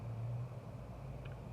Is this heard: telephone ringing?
no